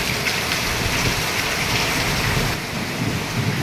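Heavy rain pours down in a dense, steady roar, loud and close throughout without a break.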